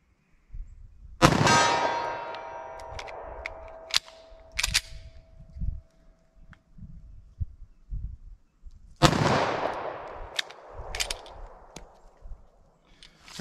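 Two loud, sharp gunshots from a short-barrel .40 Smith & Wesson pistol firing Hornady Critical Defense rounds, about seven seconds apart, each cracking hard with a ringing tail and faint handling noise between them.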